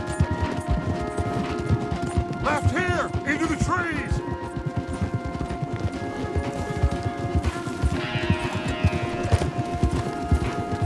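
Horses gallop with steady, rapid clip-clop hoofbeats and an occasional whinny in Red Dead Redemption 2, as characters shout and talk over the ride.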